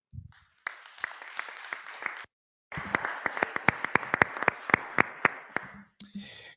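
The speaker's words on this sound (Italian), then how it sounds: "mi associo agli applausi" Audience applause at the close of a talk on the future of European parties in the EU, a steady spread of clapping with sharp individual claps standing out, broken by a brief silent gap before resuming.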